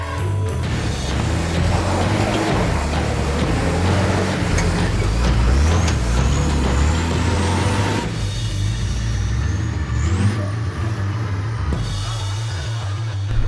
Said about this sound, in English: Here comes a big truck.